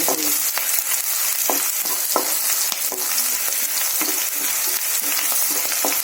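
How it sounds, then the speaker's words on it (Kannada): Green chillies fry in hot oil for Gobi Manchurian, a continuous close sizzle and crackle with scattered spoon stirring clicks throughout. "ಗೋಲ್ಡನ್ ಬ್ರೌನ್ ಬರುವವರೆಗೆ ಚೆನ್ನಾಗಿ ಫ್ರೈ ಮಾಡ್ಕೊಳ್ಳಿ"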